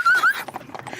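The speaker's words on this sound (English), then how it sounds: "How could I not give you a horse and a carriage?" A horse whinnies sharply at a birthday party, a rising then falling squeal over about a third of a second, followed by faint scattered knocks and crowd noise.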